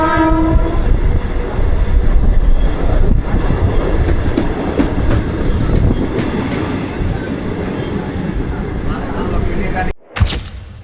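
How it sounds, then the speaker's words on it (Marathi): A local train runs past at a Mumbai station with a loud, continuous rumble and rattling wheels, and a horn blares sharply near the end, while people talk in the background. "ही ट्रेन कासेटला चालली"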